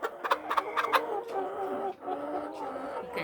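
A chicken clucks and squawks in a rapid, agitated run of close, fairly loud calls while its beak is trimmed with a hot knife, the bursts fading into a steadier, softer stretch of clucking.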